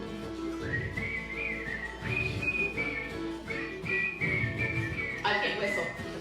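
A person whistles a melody during a live song, sustained tuneful notes in several phrases over guitar and band accompaniment.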